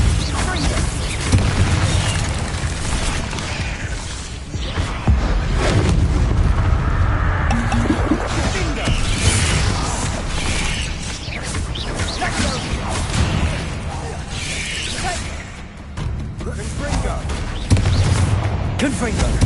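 Spells in the Hogwarts Legacy video game land as a dense run of booming blasts, cracks and crashes, loud and continuous, while a voice calls out spell names over the din.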